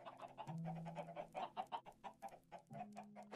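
Minecraft Bedrock chickens cluck in a pen, a run of short, close, rhythmic clucks with a couple of longer held tones, no talking.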